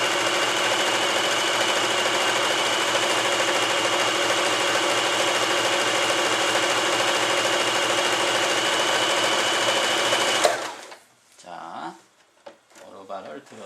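Elna 120 sewing machine stitching fabric, a steady loud mechanical whir with rapid needle chatter running continuously for about ten seconds before stopping abruptly, followed by faint handling noise.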